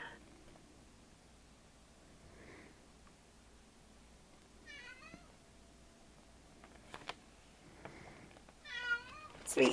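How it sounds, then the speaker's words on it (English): A house cat meows a few times at moderate volume, with quiet sounds in between and a louder meow at the end, heard close indoors without talk. "Sweet little kitty I'm hearing."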